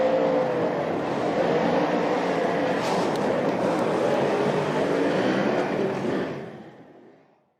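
Adam LZ's drift car running the Formula Drift course in competition, a sustained loud engine roar with tire noise holding steady for about six seconds before fading away into the distance.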